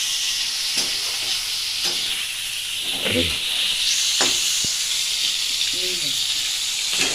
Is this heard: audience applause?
no